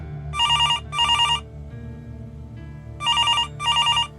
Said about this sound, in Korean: 매우 소란스럽게 오래된 다이얼 전화가 울렸다.